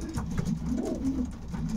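Domestic pigeons coo in a low, rolling, continuous murmur that stays steady and close for the whole stretch, with no talking over it.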